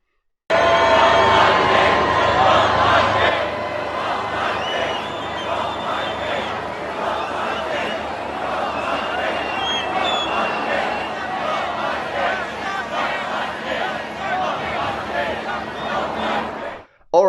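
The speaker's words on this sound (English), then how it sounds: "outside of Westminster Abbey during the coronation, there was huge crowd, a lot of people, and they were chanting like, "Not my king, not my king."" Outside Westminster Abbey during the coronation, a large crowd chants and shouts in a dense, continuous roar that holds loud for the whole stretch, with voices blending into babble.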